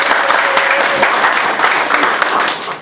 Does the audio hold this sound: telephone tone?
no